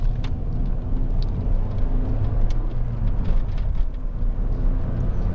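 A 2008 Toyota Auris 1.6 VVT-i SR five-door hatchback drives along, heard from inside as a steady low engine and road rumble with faint ticks above it and no talking.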